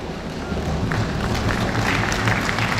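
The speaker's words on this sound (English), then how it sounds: "join me in giving a great applause to all of our students that are graduating today" Broad, rushing applause from a large audience at a university convocation ceremony for graduating students, a steady wash of many hands clapping that swells slightly and holds, with faint crowd murmur beneath.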